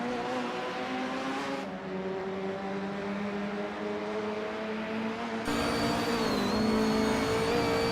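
Race cars, including a 1999 Opel Vectra D touring car, roar off the line at the start of a racing video game at Alton Park International, a steady layered engine drone that jumps louder near the end.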